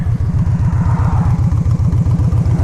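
An old touring motorcycle, a Goldwing or Venture, idles nearby with a loud, low, evenly pulsing engine beat that throbs steadily throughout.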